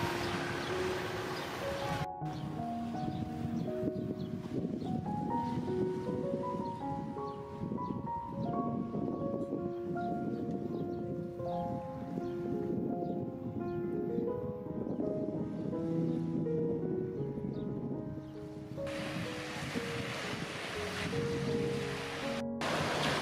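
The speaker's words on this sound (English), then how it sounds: "This white sand beach is really safe to swim in, so it's a great place for the family to visit during summertime." Waves wash continuously onto a white sand beach at Takapuna, Auckland, with black volcanic rocks along the shore; a steady, fairly loud surf roar carries on throughout under wind, and faint tonal sounds drift in the background.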